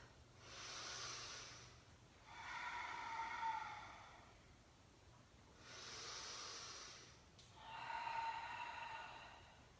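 Slow, audible breathing during an all-levels yoga class: two long inhale-exhale cycles, each a soft airy hiss swelling and fading, close and alone with no talk.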